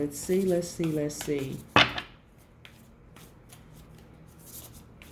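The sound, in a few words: shuffling Moonology oracle cards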